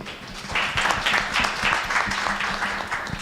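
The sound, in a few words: audience applause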